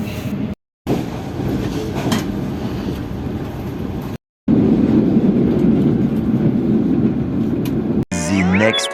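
An air-conditioned passenger train running at speed between Rawalpindi and Karachi gives a loud, steady rumble of wheels and carriage noise, broken by two brief silent gaps and ending in a short burst of different sound.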